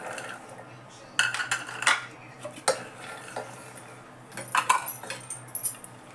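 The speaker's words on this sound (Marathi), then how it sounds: "टाकते सगळं एक एक करून कुकरमध्ये आपण वाफवून घेऊ" Soaked pulses are tipped a handful at a time into a metal pressure cooker, giving scattered bursts of clattering and clinking between quieter stretches, with no talk.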